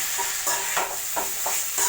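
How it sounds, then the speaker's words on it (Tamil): Idli upma being stirred in a hot pan, a gentle sizzle under a series of scraping, clinking spoon strokes that come roughly every third of a second, close and fairly loud. "நல்லா கலக்கி விட்டுக்கோங்க"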